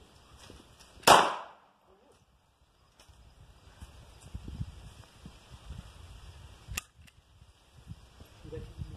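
A single sharp gunshot cracks out close by at an outdoor shooting range during a relaxed training session, followed by quiet and then low rumbling background noise, with a brief second snap later.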